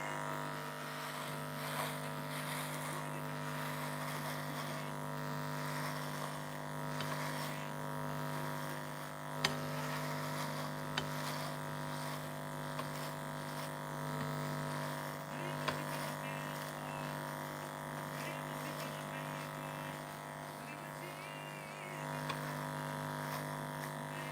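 An electric hair clipper shaves a head with a close, constant, loud buzz that runs unbroken throughout, with small clicks and brushing noises as it moves over the scalp.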